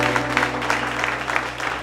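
Audience applause for a singing duo at a televised singing-show evening, a steady dense clapping texture lasting throughout, with faint voices mixed underneath.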